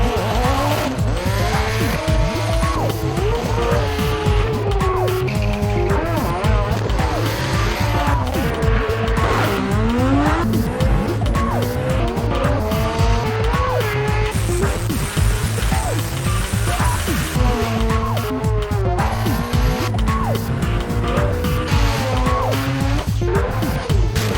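Drag racing cars at a round of the Toyo Tyres Sports Compact Drag Racing Series, with engines roaring and revving steadily at close range under dense, continuous music throughout.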